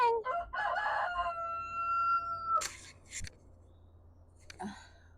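A rooster crows once, long and drawn out, fairly close, followed by faint clucks and rustling in the background.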